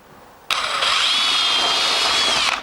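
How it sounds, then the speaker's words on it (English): A power drill whirs up sharply and bores a hole into a wall with no stud behind it, steadily for about two seconds at close range, a high continuous whine, then cuts off. "Drill the hole."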